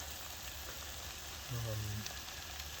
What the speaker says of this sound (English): this is starting to sizzle